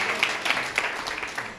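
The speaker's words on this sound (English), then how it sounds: "let's clap them again, the participants of the Liberty Hall Summer" Audience applause for the Liberty Hall Summer Program participants: a steady wash of many hands clapping together, with scattered sharper claps standing out through a brief, moderately loud burst.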